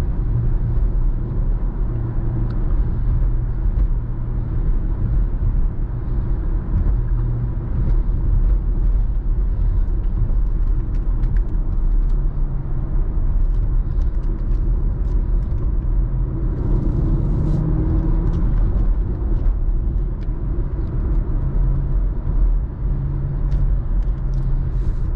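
A 2017 Porsche Macan Turbo is driven through corners, its engine a steady low rumble with road noise heard from inside the cabin, loud and continuous, with no talking.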